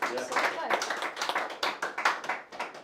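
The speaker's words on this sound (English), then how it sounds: "Clap for Gary and JP." Audience clapping for Gary and JP at a church-style relationship talk, a ragged burst of hand claps close by, mixed with a few voices.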